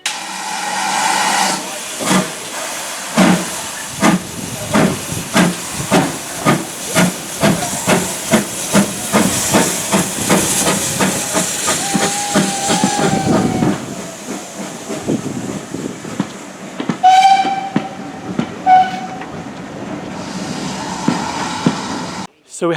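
A Severn Valley Railway steam train pulls into Arley Station on a wet day, with rhythmic chuffing that slows to a stop, loud steam hiss and a brief whistle, close by and unaccompanied by talk.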